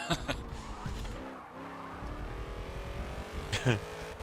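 A-Class race car in Forza 7, its engine revving up and down with shifting pitch over continuous road roar, with brief tire squeals and a couple of sharper bursts near the start and end.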